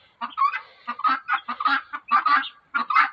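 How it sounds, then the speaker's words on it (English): Peacock and guinea hens on a farm give a series of loud, close, repeated harsh calls and squawks in bursts, with short gaps between them. "the peacock and the guinea hens,"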